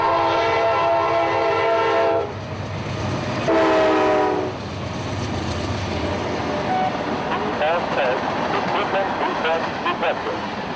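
Freight train Q452 sounds two long horn blasts close by as it leaves a crew change stop at 10th Street, then rumbles past with steady rail noise and wheel clatter, with some talk underneath.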